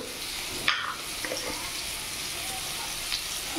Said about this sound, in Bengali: এবার এই তেলের মধ্যে আলুগুলো দিয়ে দিলাম। আলুগুলো একটু লাল লাল করে ভেজে নেব।